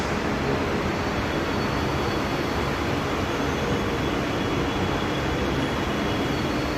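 A metro train rumbles at an underground station platform on Kolkata's purple line, a loud, steady roar that fills the whole stretch with no voices.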